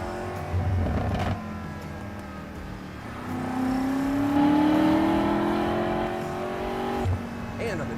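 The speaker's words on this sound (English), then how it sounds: "The exhaust is loud now." A loud car engine and exhaust droning and rising in pitch as it accelerates, with a brief burble near the end.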